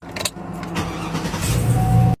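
A truck engine cranks and catches on a freshly cut key, then settles into a rising, steady idle rumble close by before stopping abruptly.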